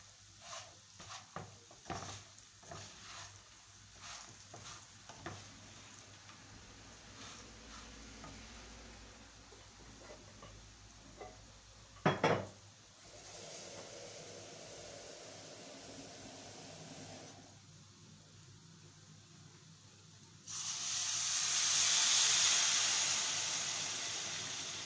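Sautéed food frying in a home kitchen pan, with stirring clatter early on, then water poured in producing a sudden loud, bright hiss and sizzle that swells and holds steady toward the end.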